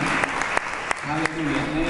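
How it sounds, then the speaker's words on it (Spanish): Sustained crowd applause with dense clapping throughout, a few sharper claps standing out, and a voice speaking faintly underneath. "vamos a dar un aplauso"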